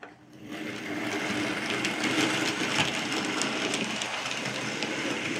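A Hornby model railway locomotive runs over track points, with a steady close motor whir and a rapid mechanical clicking of wheels on the small rails starting after a brief quiet moment.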